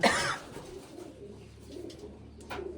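Backyard pigeons sitting outside in the sun coo softly and steadily nearby, after a short rustling burst at the start and with a small flutter near the end.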